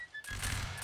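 A musket volley in the video game Napoleonic Wars bursts out after a short quiet moment, a loud, dense crackle of many shots rolling together and lingering, with a horse neighing briefly in the background.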